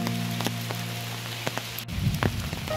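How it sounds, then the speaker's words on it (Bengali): Steady rain falls through a forest near Kolkata, a dense close hiss of drops on leaves and ground with a brief louder patter near the end, no talking. "বৃষ্টিটা কিন্তু আস্তে আস্তে বেড়েই চলেছে।"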